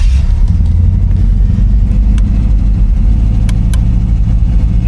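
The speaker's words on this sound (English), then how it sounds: "we go ahead and get started in the test drive in the Lemans" A 1972 Pontiac Le Mans engine drones steadily on a test drive, a continuous low rumble with constant road and cabin noise throughout and no talking.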